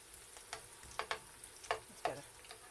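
Garlic frying in oil in a pan gives a faint sizzle broken by a few quick, close clicks and taps from a utensil, spaced irregularly over a couple of seconds, with no voices.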